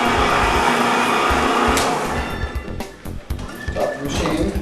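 A VMC TAC-5X marble polishing machine running on a powder polishing job, a loud steady whirring drone that breaks up and turns uneven toward the end.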